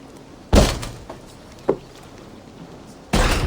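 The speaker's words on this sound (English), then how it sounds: "we'll batter the door" Heavy wooden door in Assassin's Creed Valhalla being battered, three loud thudding impacts with a lighter knock between them, spaced irregularly over a quiet background.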